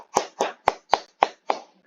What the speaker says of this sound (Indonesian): Tepuk tangan dulu buat Baktiar.